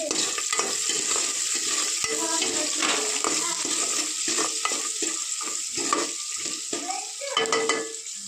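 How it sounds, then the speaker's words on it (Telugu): Onions frying in a pan and being stirred, with a loud continuous sizzle broken by repeated scraping strokes of the spoon, close and without any voice. "ఆనియన్స్ ఒకసారి కలిపి"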